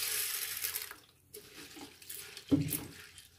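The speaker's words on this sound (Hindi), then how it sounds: "अब इसके अंदर डालना है हमें पानी।" Water is poured from a vessel into a bowl of large sago pearls in a home kitchen, a splashing trickle that pauses briefly and then resumes with a sharper gush near the end.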